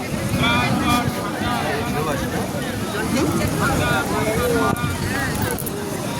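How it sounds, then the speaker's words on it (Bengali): Cool wind blowing across the beach at Digha, a steady rushing buffet against the microphone with faint surf behind, while people talk over it nearby. "কি সুন্দর ঠান্ডা হাওয়া।"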